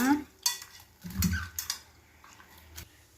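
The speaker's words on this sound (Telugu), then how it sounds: "ఈ మసాలా అంతా ఈ నూనెలో ఫ్రై నవ్వనివ్వాల కదా" Masala spices frying in oil in a pan, heard as a soft, quiet sizzle under short stirring scrapes and utensil taps, with brief faint voice sounds at the start.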